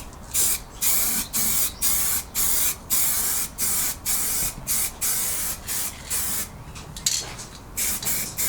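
Short, loud, hissing blasts of spray paint on the rusty wheel arch of an MK2 Volkswagen Golf. The bursts repeat in a steady on-off rhythm, each separated by a brief pause.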